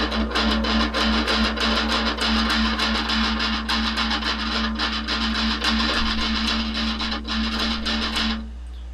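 A distorted electric guitar plays a fast metal riff with alternate picking, a dense and steady stream of quick picked notes held at constant loudness until it stops near the end.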